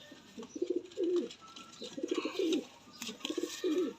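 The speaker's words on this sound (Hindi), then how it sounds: "मोतियों वाला वैशी कबूतर है" Repeated soft pigeon coos in a steady rhythm, several low throaty calls at close range with faint background noise.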